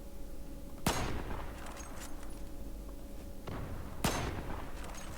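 Gunfire in the online shooter Zula: two sharp, loud shots about three seconds apart stand out over a steady low background hum, with faint crackling between them.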